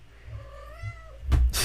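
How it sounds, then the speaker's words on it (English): A cat gives one drawn-out, wavering meow close to the microphone in an indoor room, followed by a couple of brief bumps and rustles. "Cat."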